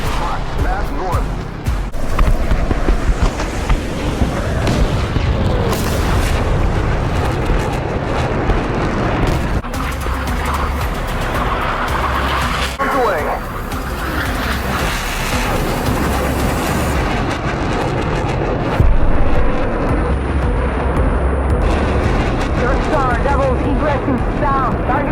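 Explosions and rumbling combat noise in the DCS flight simulator as a target is destroyed, forming a loud, dense, continuous roar with radio chatter mixed in.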